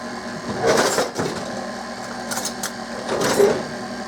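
An electric mixer whirs on a slow setting through cherry pie bar batter with vanilla, whining in uneven pulses that rise and fall as the beaters work, close and fairly loud.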